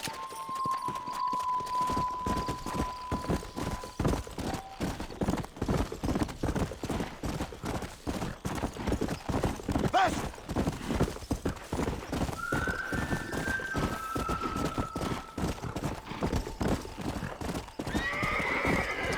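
Horse hooves clip-clopping at a steady riding gait in Red Dead Redemption, a long run of rhythmic, close hoofbeats with a brief whinny partway through and occasional faint tones in the background.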